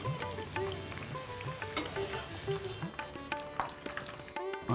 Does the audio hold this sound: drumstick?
yes